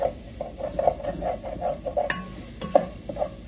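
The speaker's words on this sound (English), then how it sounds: "I'm gonna try to scrape up the stuff that's on the bottom of the pan here as well." Scraping the bottom of a pan while cooking Moroccan harira soup, a repeated rhythmic scrape-and-stir pattern of short strokes with faint sizzling underneath, close and moderately loud, with no voices.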